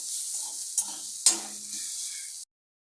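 Bottle gourd peel stir-fry being stirred in a pan, a soft continuous sizzle with a couple of sharp spatula scrapes against the metal, close by, cutting off abruptly.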